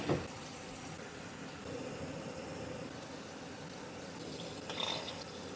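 A Chardonnay-laced burger simmering in a pan of liquid, giving a steady low bubbling hiss with soft crackles throughout and a brief brighter sizzle near the end.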